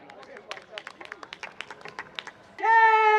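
An audience at a poetry festival claps for a poet: a short run of scattered, uneven claps, then a sustained tone.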